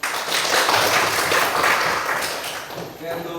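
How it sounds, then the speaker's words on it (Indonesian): Hand clapping in a classroom economics lesson, a dense burst of many hands that swells early and then fades, with faint voices and a tap near the end. "tepuk tangan, Bu."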